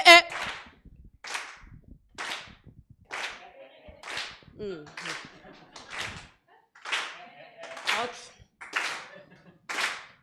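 Scattered audience applause at a literary discussion on women's writing comes as sharp, separate claps spaced about a second apart, close and crisp with quiet gaps between, more like a slow rhythmic clap than a full ovation.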